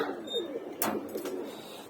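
Racing pigeons in a loft give soft, throaty coos close by, a short murmuring call with no voices over it.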